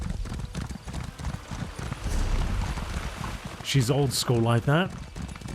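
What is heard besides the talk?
horse hooves while riding in the video game Elder Scrolls Online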